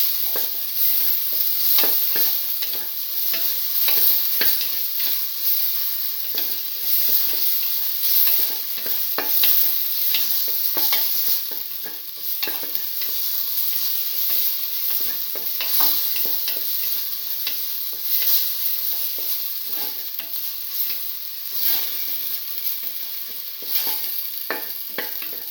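Red lentils and bottle gourd sauté in a pan with close, continuous sizzling, punctuated by frequent scrapes and clinks of a spoon being stirred through the mixture.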